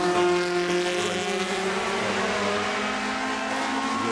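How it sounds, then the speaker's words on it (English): An early-1970s Group 6 Lola race car with a Cosworth T297 engine drives past, its loud, sustained engine note droning at a steady pitch throughout, close and unbroken. "Cosworth T297 powered Group 6 Lola, the early 70s, veteran of several Le Mans 24 hours"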